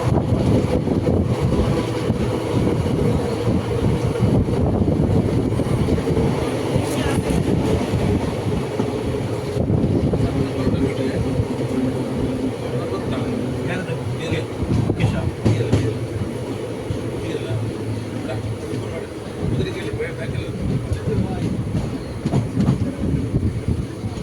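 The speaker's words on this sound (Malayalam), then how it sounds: "അങ്ങനെ നമ്മൾ ബേക്കൽ ഫോർട്ട് സ്റ്റേഷനിലേക്ക് കയറുകയായിരുന്നു കാഴ്ച" Malabar Express passenger train rolling into Bekal Fort station in Kerala, a loud continuous rumble of wheels with rhythmic clacking over rail joints, heard close from on board for the whole stretch.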